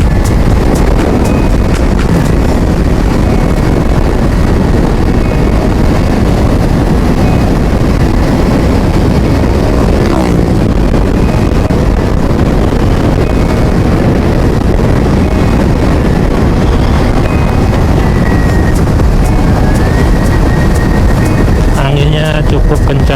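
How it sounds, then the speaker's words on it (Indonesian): Strong wind roars continuously against the microphone during a motorcycle ride on a concrete mountain road from Ciwidey toward Curug Citambur, a loud steady buffeting with a rider talking over it. "Anginnya cukup kencang ya guys."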